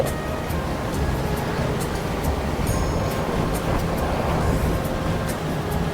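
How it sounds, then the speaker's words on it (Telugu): Strong gusty wind sweeps across an open hilltop at Puligundu near Tirupati, making a steady, loud broadband roar that buffets close to the microphone without letup. "జోరుగా ఈదురుగాలి అయితే వీస్తుంది."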